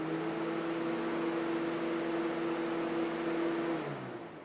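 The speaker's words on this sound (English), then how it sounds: "let's do a radiator fan" A car's radiator cooling fan, switched on by a bidirectional scan tool during an actuation test, runs as a steady loud whirring drone with a constant hum, then winds down near the end.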